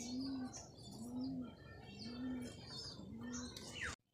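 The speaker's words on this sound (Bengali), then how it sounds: "দেখলে কত সুন্দর পায়রাগুলো বসে চাল খাচ্ছে" Pigeons sitting and eating rice coo in a repeated low rolling call, about four phrases in a row, with faint chirps and light background noise before an abrupt cutoff.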